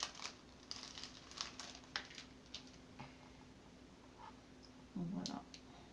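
A wooden embellishment is pulled from its plastic packaging with scattered crinkles and light clicks, quiet and close, ending in a louder burst of rustling near the end; a faint voice murmurs in the background.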